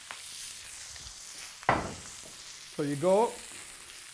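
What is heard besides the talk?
oxtail sizzling in a pan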